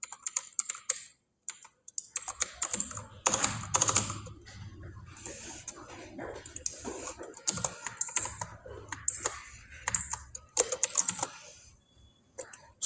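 Typing on a computer keyboard, clicking in quick uneven bursts with short pauses between them, close and fairly quiet.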